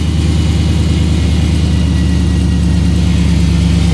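A supercharged 1955 Chevy engine runs steadily with a low, even rumble while its Th400 automatic transmission is cycled through the gears, loud and close with no voices.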